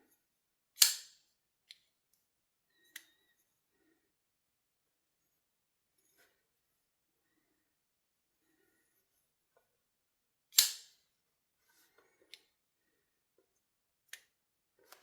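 A Kizer Inversion folding knife's lock snaps open and closed in two sharp, loud clicks roughly ten seconds apart, with a few faint smaller ticks between them in an otherwise quiet room.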